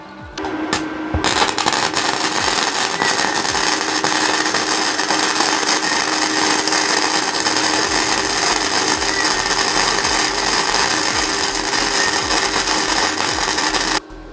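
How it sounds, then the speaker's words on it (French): A Mecafer Mikro MIG inverter welder, run gasless, lays a continuous bead inside a tacked workpiece, giving a loud steady buzzing crackle for about thirteen seconds after a few short clicks at the start. "maintenant on va venir souder donc tout le cordon à l'intérieur"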